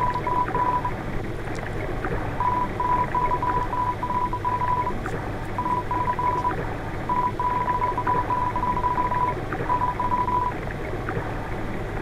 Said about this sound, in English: you'll hear her phone ringing.